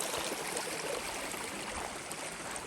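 Fresh stream water running at Ellis Brook Valley near a waterfall and old quarry, a soft, steady trickling rush heard close and fairly quiet, with no talking.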